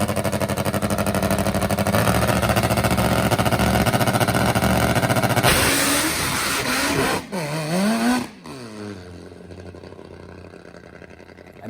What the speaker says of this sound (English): you have absolutely got to hear the rumble of a top gear motorcycle